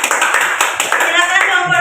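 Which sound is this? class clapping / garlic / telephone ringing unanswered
class clapping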